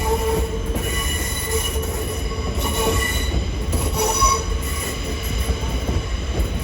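A Southeastern class 465 train pulls into a London terminus, its wheels squealing in steady high-pitched tones over a low rumble of rolling stock, fairly close and continuous with no talk.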